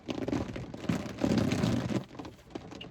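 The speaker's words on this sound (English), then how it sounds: "It's raining." Rain falls steadily as a dense, even hiss with a slight crackle of drops, moderately loud and close, with no voices.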